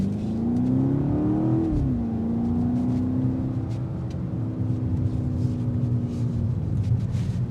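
A 2025 BMW X5 M Competition SUV accelerates on a test drive: a loud, steady engine drone whose pitch climbs briefly, then settles into a sustained roar, heard from inside with no talk.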